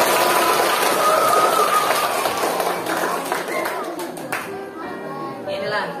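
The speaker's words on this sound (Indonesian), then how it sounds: "berikan tepuk tangan sekali lagi kepada bapak" An audience at an elementary school Isra Mi'raj gathering claps for a man, a loud, dense patter of many hands that gradually thins and fades while a voice talks over it.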